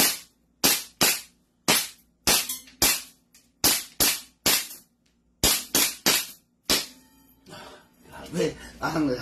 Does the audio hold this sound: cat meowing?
no